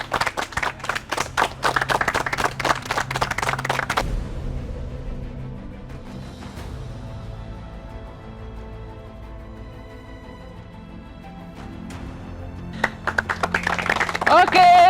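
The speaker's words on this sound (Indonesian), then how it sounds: "Ayo tepuk tangannya dong." Audience clapping at a stage award ceremony where winners come up for a trophy: dense bursts of hand claps open and close the stretch, with a quieter musical lull and some speech in between.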